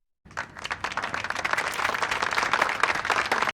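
A crowd claps steadily in a Star Trek: Enterprise episode, a dense, continuous wash of many hands that swells slightly and holds loud throughout, with no voices over it.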